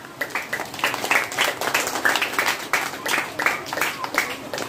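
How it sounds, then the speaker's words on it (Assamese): An audience at a third-anniversary foundation day gathering claps in scattered, uneven bursts, moderately loud, with voices mixed in. "এটা হাত চাপৰি আৰম্ভ কৰোঁ"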